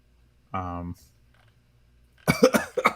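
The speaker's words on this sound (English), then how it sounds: "Sorry, I'm coughing." A single short cough-like burst near the start, then a pause before a voice begins speaking.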